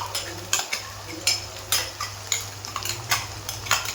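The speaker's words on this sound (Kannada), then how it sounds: "ರುಬ್ಬಿದ ಮಸಾಲ ಹಾಕ್ಬಿಟ್ಟು ಚೆನ್ನಾಗಿ ಫ್ರೈ ಮಾಡ್ಕೊಳ್ಳಿ" Ground masala paste with onion frying in a pan, heard as repeated metal spoon scrapes and clinks against the pan about twice a second over a low, steady sizzle, close and fairly loud with no talk.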